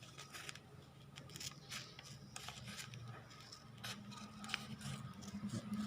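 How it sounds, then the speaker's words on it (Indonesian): Scissors snip through paper during a primary-school maths lesson on comparing fractions, several soft crisp cuts close by over a low steady room hum, with no talking. "Bapak gunting."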